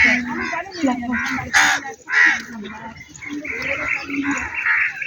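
Crows caw in loud, ragged bursts at Kakdwip, several calls overlapping nearby, with a few fainter chirps mixed in.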